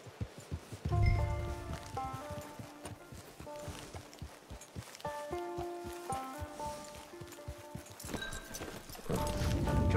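Horse hooves clip-clop in Red Dead Redemption 2, a steady walking rhythm of close, distinct hoofbeats over a soft musical score, with no voices.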